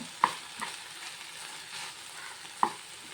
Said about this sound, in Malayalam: നന്നായിട്ടൊന്ന് മിക്സ് ചെയ്യാം ഒന്ന് ഒന്ന് ഇളക്കി കൊടുക്കട്ടെ